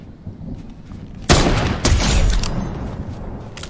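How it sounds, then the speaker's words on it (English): Sniper rifle fire in the video game Fortnite, a sharp loud crack followed by a second blast and a rumbling, echoing tail against a busy game background. "That's one of my best sniper shots yet."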